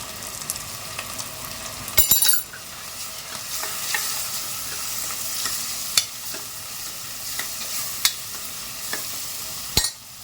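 Ground tomato with green chili and garlic paste fries in a pan, giving a steady close sizzle. A spoon stirring and scraping against the pan knocks sharply every few seconds. Nobody speaks.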